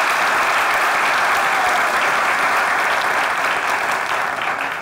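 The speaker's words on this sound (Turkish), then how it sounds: "Aferin, alkışlıyoruz İlmi ve Fatma'yı." Studio audience applause at a television show, a dense continuous burst of clapping that stays loud throughout and fades slightly at the end, with no talk over it.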